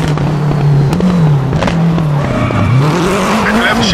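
A Lancia Delta HF Integrale rally car in WRC 8 brakes hard into a hairpin, its engine note dropping and rising again as the tyres squeal and skid, loud and close throughout.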